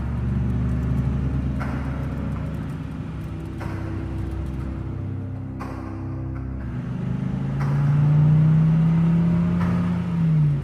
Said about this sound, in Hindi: बाबा की ये बात सुनकर रेड क्रिमिनल बाइक को लेकर जंगल के अंदर जाने लगता है और फिर आलोक भी अपनी जीप को लेकर बाबा के बाइक के पीछे पीछे चला जाता है।